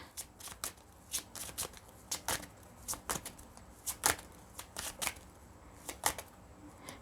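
Tarot cards being shuffled by hand in a quiet room, a steady run of crisp riffling bursts and soft slaps repeating every half second or so, close and fairly faint, with no talking.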